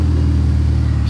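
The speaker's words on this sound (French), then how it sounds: "on a une compétition Aperta verte qui fait son arrivée place du Casino." A green Ferrari Aperta supercar arrives at Place du Casino in Monaco, its engine a loud, steady low rumble close by throughout the short moment.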